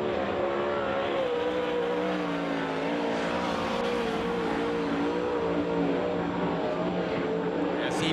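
A 410 sprint car engine drones steadily at full song down the backstretch of a 3/8-mile clay oval at Grays Harbor Raceway, its pitch wavering slightly, with a track announcer talking over it.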